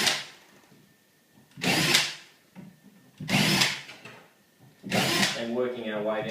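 A power drill bores holes into a metal shelf bracket in three or four separate whining bursts, each lasting about a second, with a voice talking in the gaps between them.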